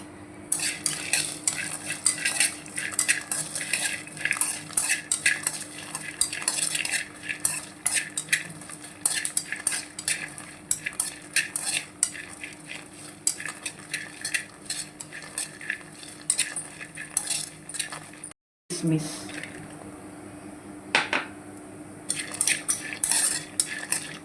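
Ghee heats in a pan with cardamom, accompanied by steady, close scraping and clinking of a spoon and a faint sizzle. The sound runs continuously apart from one brief gap.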